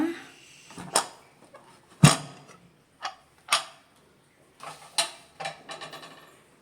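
A pressure cooker being opened after its pressure has been released, making a series of sharp metallic clicks and clacks spread over several seconds, close and fairly quiet.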